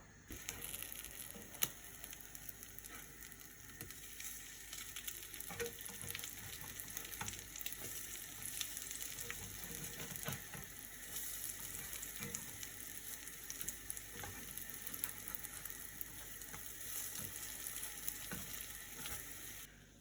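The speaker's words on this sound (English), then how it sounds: "Now you want to cook your French toast for 1 minute on each side." French toast fries in a pan with a steady, soft sizzle and crackle that runs continuously at low volume, with faint scattered clicks and no talking.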